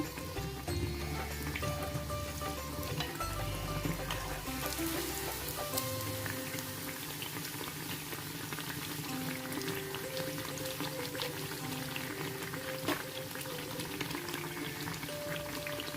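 Bread slices dipped in sugared batter fry in hot oil over a medium flame, giving a steady, dense bubbling crackle that stays loud and even throughout with no talk.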